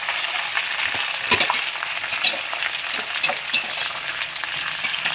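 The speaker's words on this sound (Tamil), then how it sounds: "வெங்காயம் போட்டு நல்லா வதக்கணும்" Onions with a couple of sprigs of curry leaves sautéing in hot oil, a steady bright sizzle with occasional spatula scrapes and pops, close and continuous with no voices.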